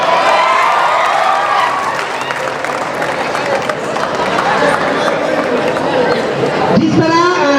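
Students at a college event break into loud applause and cheering, a dense roar of claps and shouting voices filling the room, with a swell of yelling near the end.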